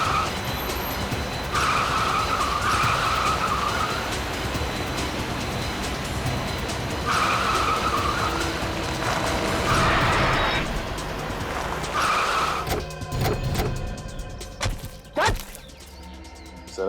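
A car races at speed through a CID chase, engine roaring continuously with several sharp tire skids and squeals in bursts, ending in a run of clattering impacts and rattles.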